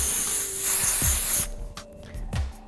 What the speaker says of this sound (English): I'm just gonna use a little bit of Texture Takeover by Faux and really spray in her hair